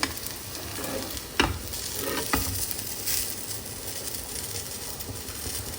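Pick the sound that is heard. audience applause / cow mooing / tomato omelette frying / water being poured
tomato omelette frying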